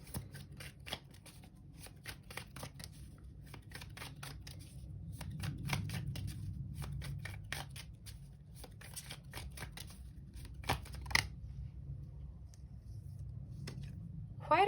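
Tarot cards being shuffled during a pick-a-card reading, a steady run of close, soft riffling and slapping card noises lasting the whole stretch with no talk over it.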